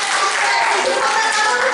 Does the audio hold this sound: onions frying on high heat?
no